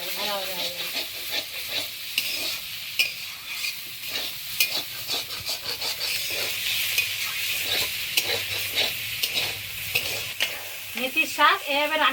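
Methi greens fry in oil left from frying eggplant, with continuous sizzling and frequent scraping stirs from a spatula, close and steady throughout.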